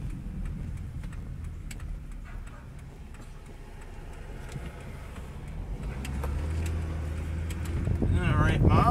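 A 2003 Ford Taurus with new front brakes and rotors rolls along a neighborhood road, a steady low engine and road rumble that swells slightly toward the end, with faint ticking above it.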